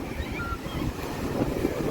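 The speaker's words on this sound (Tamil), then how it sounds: "அப்பா செம்ம காற்றடிக்குது." Strong wind buffets the microphone at Velankanni beach, with surf rushing underneath in a dense, continuous roar that swells slightly toward the end; no talk.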